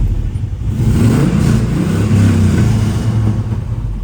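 A 1969 Chevrolet Camaro with an LS engine revs steadily, with a deep, loud, close rumble that swells with the throttle and holds a smooth idle-to-rev drone throughout.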